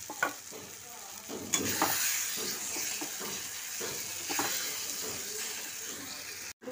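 Beaten eggs hit hot oil in a pan, crackling into a loud, continuous sizzle broken by repeated scraping strokes of a stirring spoon.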